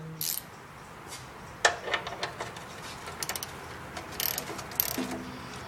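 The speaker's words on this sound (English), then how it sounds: "Tightening the plug where it's tight." Ratchet clicks in short bursts tightening the oil drain plug on a truck or car during an oil change, close and fairly quiet, with pauses between strokes.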